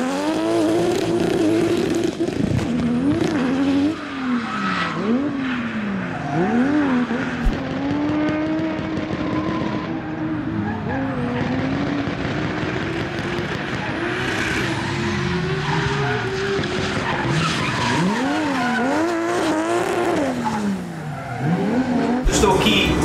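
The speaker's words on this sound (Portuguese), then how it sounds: "Pela primeira vez, nós vamos poder ver aqui no canal um carro de drift." A Toyota Supra drift car driven by a national drift champion screams through sustained revs with long, wavering tire squeals and skids, loud and continuous, the engine pitch climbing and dropping as it slides.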